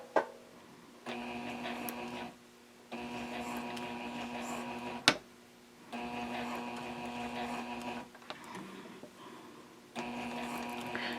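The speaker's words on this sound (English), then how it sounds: "I also already have my needle positioned to start sewing 1/4 inch below this edge" Sewing machine stitching along zipper tape, bursts of rapid whirring motor hum lasting a second or two each, separated by short quiet pauses and a sharp click, close and fairly quiet.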